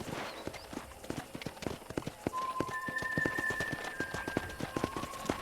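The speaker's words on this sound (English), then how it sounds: "let's see if you can still ride a horse" Horse hooves clip-clop in a steady riding rhythm around a ranch in Red Dead Redemption, crisp and fairly close, with brief tonal game sounds drifting over the hoofbeats.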